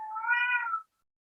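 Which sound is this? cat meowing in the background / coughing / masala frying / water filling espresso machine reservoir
cat meowing in the background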